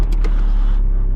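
A VW T4 van's 2.5 TDI five-cylinder diesel engine catching as it starts, a loud close low rumble with a brief higher whirr at the start, settling into a steady idle drone.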